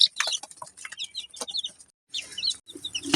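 Chickens and chicks clucking and peeping in a poultry pen, a run of close, lively calls that breaks off briefly and then resumes.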